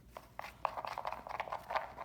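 A pet rabbit gnaws on a cardboard box, giving a quiet, close run of irregular crunching and tearing bites with no speech.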